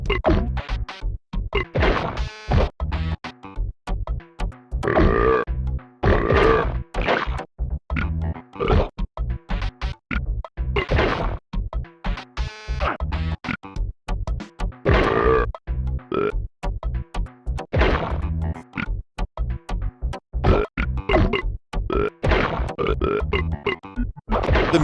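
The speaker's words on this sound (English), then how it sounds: "The music sounds like burps too" Music in an awful Super Nintendo game ported from a PC release is built from belch-like, grunting bursts in a choppy, rhythmic pattern that runs on loudly and steadily for the whole stretch.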